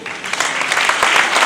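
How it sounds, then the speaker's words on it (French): Audience applause at an association inauguration event, dense close clapping that holds steady and loud throughout the brief moment. "je vous demanderai tout simplement, d'applaudir ce monsieur s'il vous plaît"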